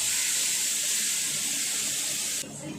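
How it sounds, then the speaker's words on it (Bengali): Tap water runs steadily into a blender jar as it is rinsed, a constant rushing hiss that drops abruptly near the end. "মিক্সির জারটা ধুয়ে"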